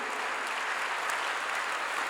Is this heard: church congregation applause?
yes